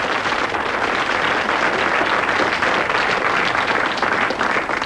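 A steady wash of applause from a seated audience, dense and even throughout with no talking over it.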